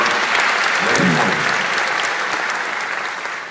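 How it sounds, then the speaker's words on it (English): A theater audience applauds in a dense, steady wash of clapping that fills the whole clip and fades slightly toward the end. "it's okay if you want to applaud"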